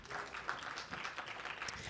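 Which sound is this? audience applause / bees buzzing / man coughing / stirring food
audience applause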